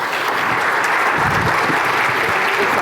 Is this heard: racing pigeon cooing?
no